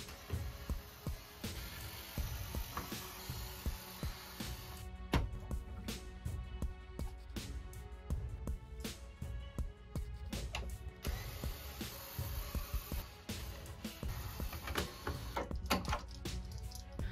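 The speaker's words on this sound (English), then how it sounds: "First, we will remove the side LED board by removing 9 screws." Screws being removed from the side LED board of a JBL PartyBox 710 speaker during a teardown, heard as close ratcheting and clicking of a screwdriver in repeated bursts with small metallic taps and brief pauses.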